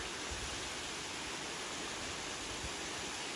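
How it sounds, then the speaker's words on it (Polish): A continuous rushing roar of a waterfall at the Fairy Pools in Scotland, steady and broadband, with no voices. "Zobaczcie, ładny wodospad."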